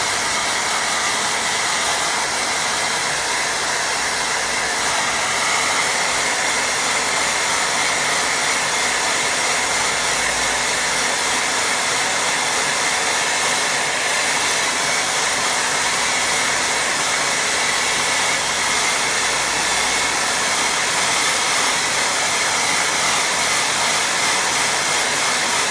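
A hair dryer blows steadily at close range to dry a watercolour painting, giving a loud, constant whooshing hiss that runs unbroken for the whole stretch with no talking.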